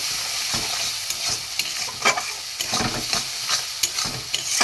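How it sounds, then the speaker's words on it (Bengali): Spices, including salt, turmeric, chilli powder, ginger-cumin paste, garam masala and grated ginger, sauté with chopped tomato and green chilli in a pan, giving a steady close sizzle broken by repeated stirring scrapes, with no talking. "সব মশলা দেওয়া হয়ে গেছে, এইটার সাথে কষিয়ে নেব"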